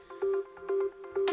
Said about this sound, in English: a sine wave with some distortion and reverb